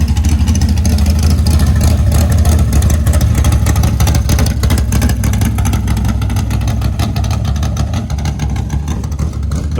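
A Hemi-powered vintage drag car rumbles past at close range, a loud, continuous low engine drone that stays steady and heavy throughout with no talk over it.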